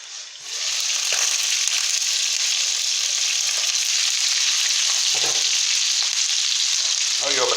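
Chicken livers spatter and sizzle in a hot frying pan, a dense, steady crackle that runs close and loud almost the whole time, with a few soft clinks near the end.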